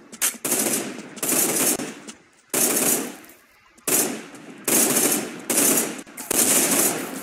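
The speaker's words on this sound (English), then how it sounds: "There are a couple of guys exchanging fire." Bursts of automatic gunfire in a first-person shooter video game come in loud, sustained volleys separated by short pauses, clearly dominating the scene.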